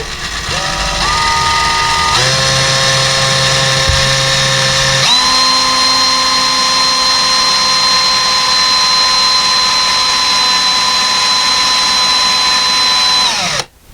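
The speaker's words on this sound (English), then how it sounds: "we're going to drill the second hole down the bottom right here. Nice and slow." A power drill spins up in steps and holds a long, steady high whine while boring a hole into drywall for a curtain rod anchor, loud and close, with a low grinding bite early on before the motor cuts off at the end.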